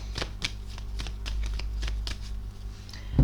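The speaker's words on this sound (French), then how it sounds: "Je vais prendre qu'une seule carte." Tarot cards being handled and drawn during a reading: soft papery shuffling and flicking, several light riffles and slides close to the microphone, quiet and unaccompanied by speech.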